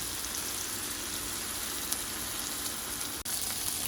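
Chicken thighs fry in a pan with a steady, dense sizzle and crackle, close and even throughout, with one brief dip near the end and no talking.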